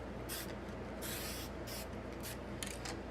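Testors Dullcote sealer hisses from an aerosol can onto a scale model in short, repeated bursts of varying length, fairly close and quiet, with no one speaking.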